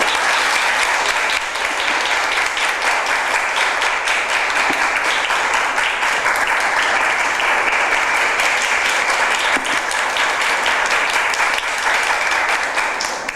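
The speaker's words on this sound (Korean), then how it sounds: "여러분 우리와 같은 박수로 우리 박은영 변호사님" Sustained, dense applause fills a lecture hall as an audience welcomes a guest lawyer, loud and even for over ten seconds with no speech.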